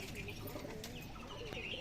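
Pet pigeons in a loft coo softly in the background, a faint, low, continuous murmur of bird calls with occasional chirps and a few quiet voices nearby.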